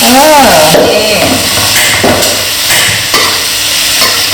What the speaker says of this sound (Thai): ก้อนหมูอันนี้ก็หมู ผัดอยู่